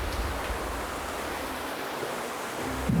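Underground waterfall inside a Moscow river collector tunnel, a constant broadband rushing roar of falling water echoing in the enclosed space, steady and enveloping, with a faint low rumble beneath.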